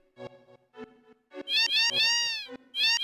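Cat meowing in Final Fantasy 7 (1997), a series of short close meows followed by longer, rising drawn-out cries, loud and clear with no talk over them.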